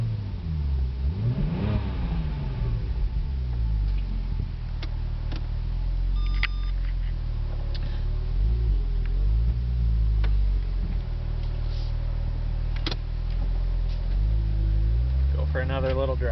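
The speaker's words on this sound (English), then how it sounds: "Everything's running fine. It's idling steady there." A 2008 Porsche 911 Turbo Cabriolet, a repairable salvage car, idles steadily with a low, even engine rumble throughout, joined by a few faint clicks and a brief rise near the end while a person talks over it.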